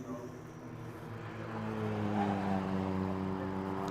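Race cars at Ring Djursland approach turn 3, engine drone rising and swelling in pitch and loudness as they draw nearer, heard under steady commentary.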